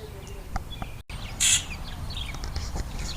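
Small birds chirp in a corner near a storage shed, giving a few faint, scattered calls and one brighter, short burst of chirping midway, over a low background rumble.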